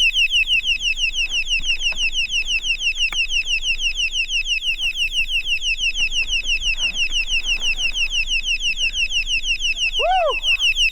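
An alarm that cannot be switched off beeps in a fast, shrill repeating pattern, loud and continuous, while a voice briefly sounds near the end, out on an uphill trail in Hinton, Alberta.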